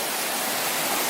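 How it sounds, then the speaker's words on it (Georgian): Makhuntseti waterfall, a steady, dense rush of falling water that roars close and even throughout, with no voices over it. "მახუნცეთის ჩანჩქერი"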